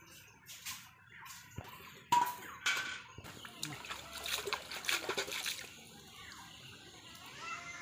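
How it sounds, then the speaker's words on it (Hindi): Water being drawn and splashed at a village well, with irregular sloshing and splatters close by, some sharper splashes standing out, while a person talks intermittently. "और सुनीता जी यहाँ पानी उठाएगी।"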